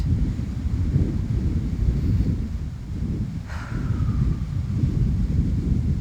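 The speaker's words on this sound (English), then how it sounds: "And the wind is picking up as I say that." Wind blows outdoors in a steady low rumble of gusts buffeting the microphone, loud and constant throughout with a brief faint whistle partway through.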